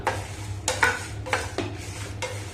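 Sesame seeds and a bunch of stored curry leaves being stirred and roasted in a pan for temple-style puliyotharai spice powder, with repeated scraping and clinking strokes over a faint low hum.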